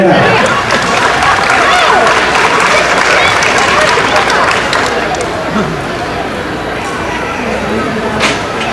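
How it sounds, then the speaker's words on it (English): Audience applauding at a county fair livestock show as kids leave the ring, a steady wash of clapping from a crowd in an event hall, with an announcer's voice over it. "Let's applaud those kids as they head out."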